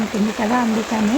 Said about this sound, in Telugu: వర్షం పడుతూ ఉంటుంది కదా ఆ సౌండ్ నేను మ్యూట్లో పెట్టలేదు